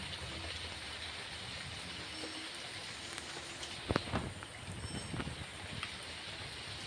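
Heavy rain falls outside during a thunderstorm, a steady broadband hiss that holds through the clip, with a few brief louder knocks and rustles near the middle and no talking.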